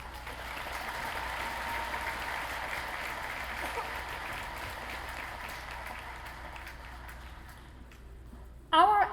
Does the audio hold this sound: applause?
yes